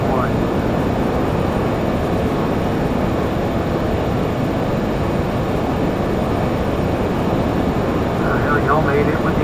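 Steady, loud, broadband roar of a Lear 35 jet's engines during a climb, heard from inside the cabin as a continuous unbroken rumble and hiss throughout.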